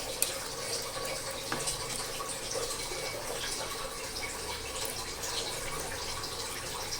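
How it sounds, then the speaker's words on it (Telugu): Water sprinkled over a dish during cooking, a steady soft hiss and patter of splashing drops that holds at an even, moderate level throughout with no talk. "కొంచెం వాటర్ చల్లుతున్నాను"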